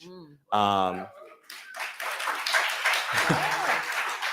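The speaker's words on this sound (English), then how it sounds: "you clapped when I said climate change" An audience claps at a live political breakfast talk show. A voice speaks briefly first, then the applause rises into a sustained broadband patter that runs to the end, with some talking mixed in.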